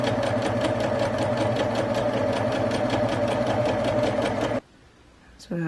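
A sewing machine stitches a face mask seam at a quarter-inch allowance, a rapid, even mechanical chatter running close and steady, then stopping abruptly, followed by a brief small sound.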